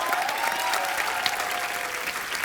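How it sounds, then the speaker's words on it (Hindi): Steady, dense applause from a sizable TV comedy show studio audience, sustained at an even level throughout with no voices standing out. "जोरदार तालियां एक बार"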